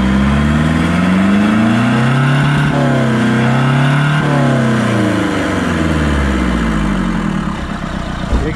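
Renault 1.5 dCi diesel engine with a stuck-open EGR valve and the intake removed, revved hard at full throttle, a loud close continuous roar that climbs and falls in pitch through several revs.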